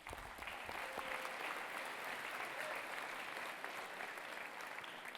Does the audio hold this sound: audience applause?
yes